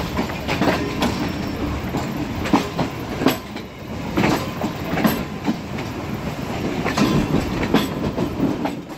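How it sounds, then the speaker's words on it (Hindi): A passenger train bound for Rawalpindi pulls out after giving way to the Green Line Express and crosses onto the main line, with steady rolling rumble and rhythmic clickety-clack from wheels passing over the points, heard close up. "अब हम ग्रीन लाइन एक्सप्रेस को रास्ता देने के बाद दोबारा से रावलपिंडी के लिए यहाँ से निकल रहे हैं"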